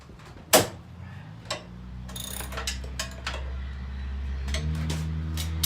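A 15 mm wrench works a frame bolt loose, ratcheting with a sharp initial click and then a run of clicks over a low, steady mechanical hum.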